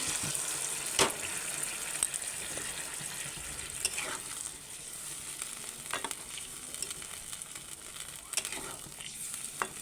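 Curry gravy simmering in a pan after hot water is poured in, giving a steady sizzling, bubbling hiss with occasional soft stirring scrapes, close and moderate in volume with no voices.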